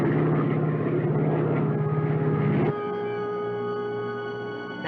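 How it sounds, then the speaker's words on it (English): A light aircraft drones steadily in flight as it loses altitude, a loud continuous engine hum with propeller harmonics that shifts abruptly to a smoother, slightly quieter tone partway through. "Janice, we're losing altitude"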